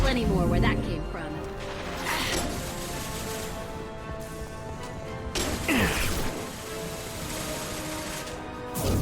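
The concussive shot ability fires in Mass Effect on Insanity difficulty: several sharp crashing impacts and whooshes land at intervals, mixed with other game noise while a voice talks over the action.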